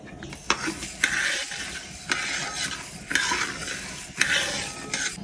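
Rice and ground pepper roasting in coconut oil in a pan for chutney powder, with a steady dry sizzle and repeated scraping stirs of a spoon against the pan, close and continuous.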